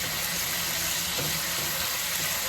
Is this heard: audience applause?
no